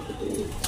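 Racing pigeons cooing softly in a club loft during a training period, a low murmuring coo that carries steadily through the short moment without any talk.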